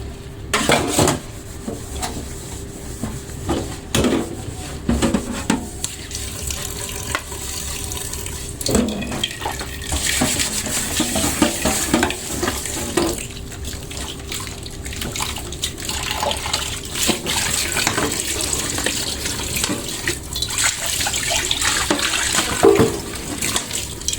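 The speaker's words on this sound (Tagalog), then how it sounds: "Kahit pagod ang kamay, kailangan maghugas ng pinagkainan." Dishes, pots and cutlery being washed in a sink under a running tap, with steady flowing water and repeated close clinks and clatters of crockery and utensils throughout, no talking.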